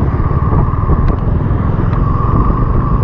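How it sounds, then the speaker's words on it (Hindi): A car picks up speed on a national highway on a long road trip, its engine and tyre rumble loud and continuous from inside the cabin, with a few faint clicks. "ये मैं आ गया नेशनल हाईवे से, अब गाड़ी पकड़ेगा रफ्तार।"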